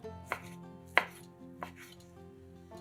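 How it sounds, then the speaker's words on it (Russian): A knife chops sausage into cubes on a cutting board in four sharp, separate strikes at an uneven pace, close and crisp with nothing else around them. "50 грамм колбасы нарезаем небольшими кубиками."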